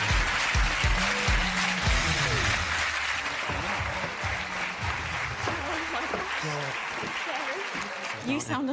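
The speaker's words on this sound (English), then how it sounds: "Give them a huge round of applause." Studio audience applause on a television show greets two guests, loud and sustained dense clapping for several seconds with cheering, and a voice comes through briefly at the start.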